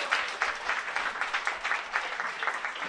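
A crowd at a live Korean podcast event applauds steadily, with dense clapping that holds at an even level from start to finish, fairly close.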